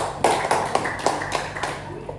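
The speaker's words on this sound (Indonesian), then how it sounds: "Beri tepukan lagi." Short burst of applause in a classroom, several sharp claps at an uneven rhythm from a small group nearby, fading out over about two seconds.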